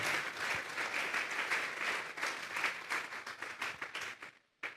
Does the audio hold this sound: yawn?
no